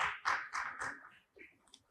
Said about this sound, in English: The round of applause shouldn't stop with one